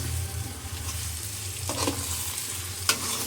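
Egg and rice roasting in a hot pan for egg rice, with a steady, close sizzle and occasional scraping stirs of a spatula against the pan.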